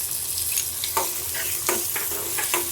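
Onion and chopped tomato sizzle in a pan while a spatula stirs them, giving a steady frying hiss broken by several quick scraping strokes, close with no speech.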